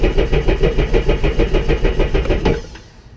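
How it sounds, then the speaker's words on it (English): A Sea Doo GTI jet ski engine runs at a steady, rhythmic idle, loud and close, its pulsing throb continuing for a couple of seconds before cutting off and fading into quiet. "grab the throttle, and start the engine for about 10 seconds."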